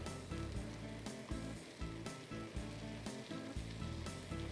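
A cheese sandwich fries on high heat in melted butter in a pan, giving a steady, loud sizzle with crackling bursts throughout and no talking.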